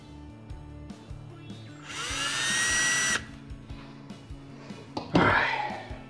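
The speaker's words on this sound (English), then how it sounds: "you're going to want to drill the same way through here" A power drill whirs for about a second, spinning up then stopping, followed later by a short grinding burst, with background clatter and handling noises, while drilling parts of a Robo-Copter toy.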